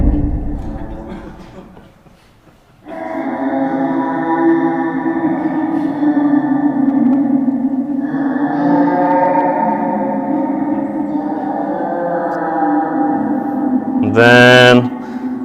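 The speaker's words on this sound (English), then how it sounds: "we're gonna add some reverb to it" A game sound effect drenched in added reverb, a steady layered tone with a washy, echoing tail that runs for most of the stretch, ending in a brief bright burst near the close; no talking.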